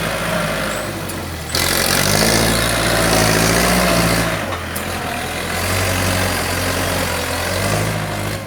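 A farm tractor strains to push a load of laterite soil dumped by a six-wheel truck onto concrete, its engine droning loud and steady with a deep low rumble that surges and eases in waves and never stops.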